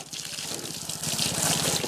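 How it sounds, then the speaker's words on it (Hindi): Water sprays and splashes steadily while a scooter is washed outdoors, a continuous close gushing hiss that grows slightly louder toward the end. "अब चलते हैं फटाफट पानी मार देते हैं।"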